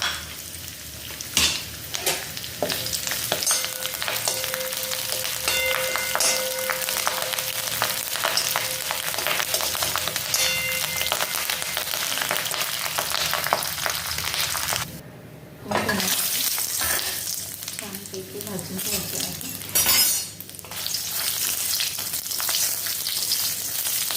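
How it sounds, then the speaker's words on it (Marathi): Curry leaves frying in oil in a kadhai, a steady loud crackling sizzle with pops, utensil scrapes and clinks against the pan, and a brief lull partway through. "आपण कढीपत्ता तळून घेणार आहोत तर त्या बघा इथे कढईमध्ये मी"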